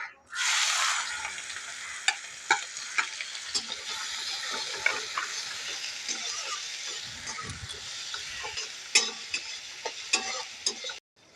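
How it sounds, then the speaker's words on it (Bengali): Chopped onions hit hot mustard oil with a loud burst of sizzling that settles into a steady fry, broken by repeated spoon clinks and scrapes against the pan. "এর মধ্যে এখন দিয়ে দেবো কুচানো পেঁয়াজগুলো"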